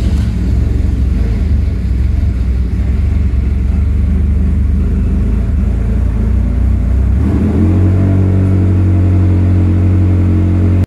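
A Ferrari 360 Modena V8 rumbling steadily, then settling midway into a smooth, loud, deep idle after the engine catches; no talking.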